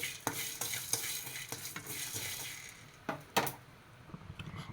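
Fennel seeds, cumin and black pepper dry-roast in a pan with repeated scraping strokes of a spoon and a light crackling sizzle, close and steady.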